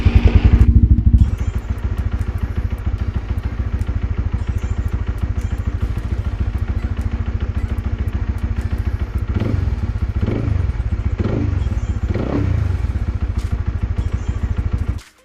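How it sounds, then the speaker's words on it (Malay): Honda RS150 motorcycle engine started after an oil change, its steady close idle running throughout with a few clattering knocks partway through, then cutting off at the end. "Seterusnya kita hidupkan enjin"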